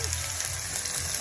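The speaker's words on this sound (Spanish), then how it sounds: "Está friendo su carnecita para su chaufa." Meat sizzles in a frying pan for chaufa fried rice, a steady close hiss of frying with faint background sound and no clear talk.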